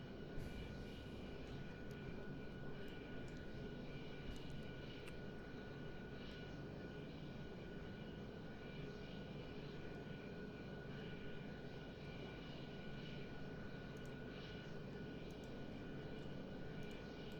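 Loud, steady jet roar from a MiG-21bis engine held at high RPM in the Prepar3D flight simulator, a constant unbroken drone with a whining tone that persists for the full stretch, with no voices.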